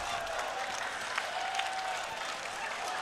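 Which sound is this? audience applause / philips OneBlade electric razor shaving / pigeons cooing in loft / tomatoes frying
audience applause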